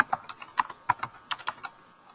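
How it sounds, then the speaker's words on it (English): Keys on a computer keyboard tapped out while entering an email address and password, roughly a dozen quick, uneven clicks over two seconds, close and alone with no talking. "Allow me so I can type my correct email and password."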